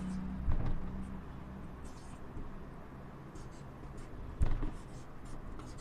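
Chalk or marker writing on a classroom board for a chemistry lesson, heard as faint scratchy strokes with a couple of sharper knocks against the board, partly under a teacher's speech.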